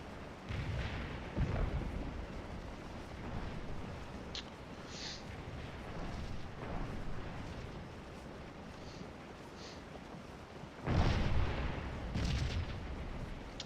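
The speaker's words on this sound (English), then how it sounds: "Cannons just ripping holes down." Cannon artillery booms in a Civil War battle game set at Antietam roll out repeatedly, heavy and continuous, with several louder blasts layered over a steady battlefield rumble.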